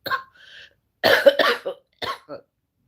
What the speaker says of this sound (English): Cough is back from influenza type A.